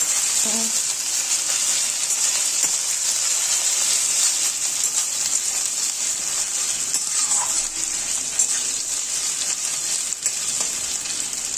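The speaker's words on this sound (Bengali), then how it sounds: "এবার আমি দু মিনিট একটু নাড়াচড়া করে নেব যাতে রসুনের আর আদার কাঁচা গন্ধটা বেরিয়ে যায়" Chopped garlic and ginger frying in a pan as they are stirred, a steady close sizzle with faint scraping, without talk.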